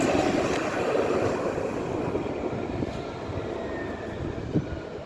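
Nottingham tram 217, named Carl Froch MBE, pulls away from a stop with a steady rumble and broad wheel and motor noise that thins slightly as it moves off, with no voices.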